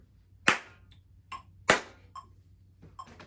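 A teacher claps a rhythm in a quiet classroom: two sharp, distinct claps about a second apart stand out, with softer taps and clicks scattered between them.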